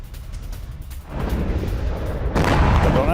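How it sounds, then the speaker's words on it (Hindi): Artillery strikes on Ukrainian military positions in Donetsk arrive as a rising series of deep booms and rumbling blasts. A quieter start gives way at about one second to heavier rumble, and the loudest explosion hits at about two and a half seconds. "यूक्रेन के सैन्य ठिकानों पर बारूदी हमले।"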